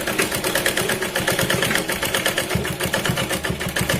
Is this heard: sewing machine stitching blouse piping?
yes